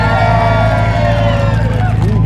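A large outdoor crowd at a supercar weekend sound-off cheers and shouts loudly and steadily for a Toyota Supra, a dense roar of many voices with a low rumble underneath throughout.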